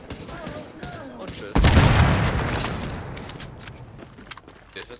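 A sudden loud grenade blast in the video game The Division erupts midway and rolls off into a fading rumble, with scattered gunfire crackling before and after amid game sounds.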